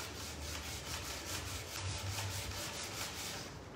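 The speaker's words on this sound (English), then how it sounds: "I'm giving it a really good sand all over with an 80 grit sanding block" Steady, repetitive scraping of an 80-grit sanding block across a wooden chair, rhythmic back-and-forth strokes continuing without pause, fairly quiet and close.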